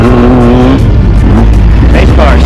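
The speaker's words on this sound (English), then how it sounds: "Race cars coming into our jump." Loud engine roar of off-road race cars racing past toward a jump at Ocotillo Wells, with revving and shifting pitch, under voices and crowd noise.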